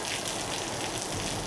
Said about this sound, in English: the rain kept coming